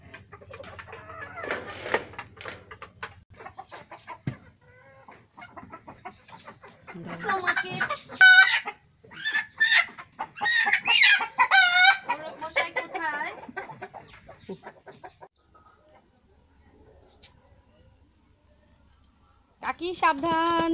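A country chicken clucks and squawks in agitated bursts as it is caught, close and loud, mixed with people talking nearby and some rustling.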